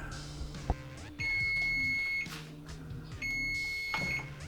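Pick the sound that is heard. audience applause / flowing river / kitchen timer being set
kitchen timer being set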